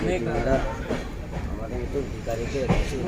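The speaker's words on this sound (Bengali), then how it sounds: "ট্রেন ছেড়ে দিয়েছে" A train pulling away on its rails, with a low rolling rumble and faint rhythmic wheel clatter running beneath nearby people talking throughout.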